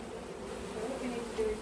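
Honeybees fanning inside a hive built in a cupboard, a steady close buzzing hum that continues without break.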